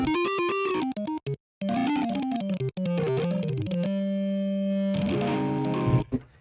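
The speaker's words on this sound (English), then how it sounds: "You can make it sound like a rock guitar without having a rock guitar." A Hammond B3 organ plugin with rock distortion plays a run of gritty, choppy chords, then holds a long sustained chord before a final swell, loud and without talking.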